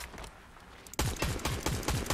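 Fortnite weapon fire begins after a quiet moment: a rapid string of loud, evenly spaced gunshots, close and punchy, with no talk over it.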